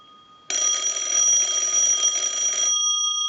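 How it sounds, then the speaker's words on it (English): One sustained burst of bright, rapid clanging comes from the bell of a Northern Electric candlestick telephone, loud and near, lasting a couple of seconds before stopping abruptly. "The bell has a very unique sound to it."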